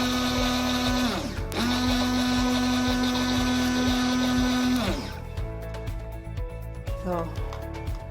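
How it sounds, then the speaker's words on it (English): A handheld blender whirs steadily for about five seconds while mixing an oil-in-water emulsion into a shea lotion, stopping briefly after one second, then winding down as quieter stirring noises continue. "put in your hand blender and make sure you turn it on"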